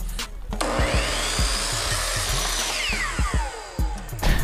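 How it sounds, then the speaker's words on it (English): A power saw cuts an outside corner of trim, making a loud, continuous whirring cut with a rising and falling sweep and sharp knocks of the workpiece, all close up and without talk. "So we'll go ahead and cut this outside corner here."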